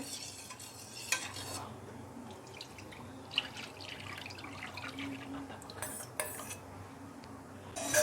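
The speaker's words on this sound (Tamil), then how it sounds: "இதை அடுப்பை ஆன் பண்ண உடனே கிண்டிக்கிட்டே இருங்க, இல்லைன்னா கட்டி விழுந்துடும்" Rice flour batter for village-style appam being stirred continuously in a kadai over the stove, with a spoon scraping and clinking against the pan and soft wet sloshing, several sharper knocks near the end.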